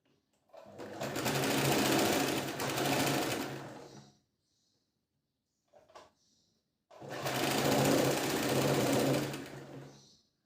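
A sewing machine stitches blouse cloth in two long steady runs of rapid mechanical whirring, broken by a quiet pause with a brief clack of handling between them.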